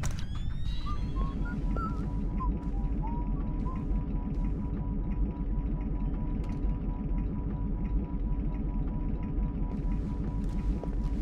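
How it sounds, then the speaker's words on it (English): Steady low mechanical hum and throbbing drone of an oil rig setting in the Splinter Cell stealth video game, continuous and even, with faint tonal whistles and chirps drifting over it early on. "hearing the beeps and boops and clanks of computers and keyboards and routers or the hum of an oil rig"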